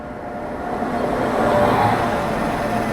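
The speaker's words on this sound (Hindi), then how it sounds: "यहाँ देखते हैं कौन सी गाड़ी पहुँच रही है" Hemkunt Express hauled by a WAP-7 electric locomotive arriving at an Indian railway station: a loud, steady rumble that swells midway, with a faint thin squealing tone riding over it and no voices.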